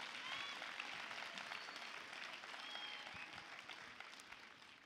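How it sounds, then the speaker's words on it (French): Quiet audience applause for young women champions at a community gathering, sustained and distant-sounding clapping with faint whistles, slowly fading toward the end. "Je crois qu'on peut tous les applaudir encore une fois."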